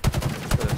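Rapid bursts of automatic gunfire in a Halo multiplayer Oddball match, two quick volleys of loud, close shots with rhythmic pulses.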